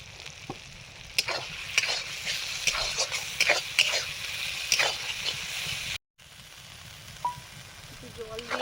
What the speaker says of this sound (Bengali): একটু জল দিয়ে মশলাটা কষে নিচ্ছি।